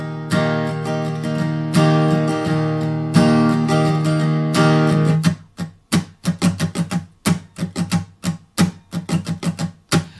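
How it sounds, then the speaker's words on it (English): Acoustic guitar in capo 1 playing a simple country strum for a song: sustained ringing chords at first, then crisp, evenly spaced rhythmic strums, close and clear with no talking. "And the strum pattern is going to be a very, very simple country strum."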